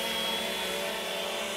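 A Bugs 2 B2C GPS drone flies nearby, giving off a steady high-pitched whirring buzz from its propellers, constant and fairly faint throughout with no talking.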